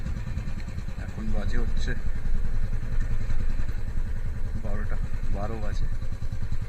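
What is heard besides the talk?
motorcycle ride on road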